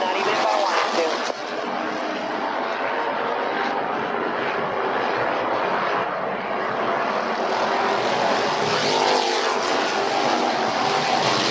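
Street stock race cars roaring around a speedway, a dense continuous engine drone that swells and recedes as cars pass, with a commentator's voice faintly under the noise.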